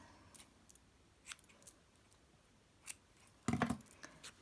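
Small scissors trim wool on a miniature needle-felted dog: a few faint, sparse snips, then a quick cluster of louder cuts near the end, in a quiet room with no talking.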